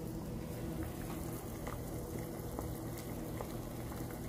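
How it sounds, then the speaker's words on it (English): Onion tea with lemon and honey at a steady boil in a pot, a dense continuous bubbling roil heard close and alone. "we got a good boil going on here"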